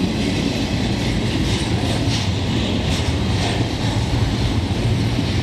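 A CN freight train rolls past in the rain, giving a continuous loud rumble of wagons with a steady clatter and faint wheel squeal throughout, and no voices.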